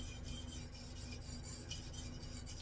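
Japanese chef knife worked on a whetstone, a steady close gritty rasp of steel scraping across wet stone in repeated strokes, continuous and alone without talk.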